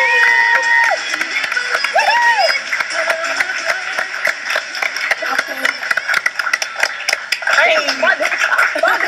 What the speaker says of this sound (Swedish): En stor applåd för Loreen!